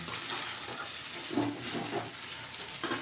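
Sago pearls being sautéed in a pan on a low flame for sabudana khichdi, giving a steady close hiss of frying with soft stirring scrapes throughout.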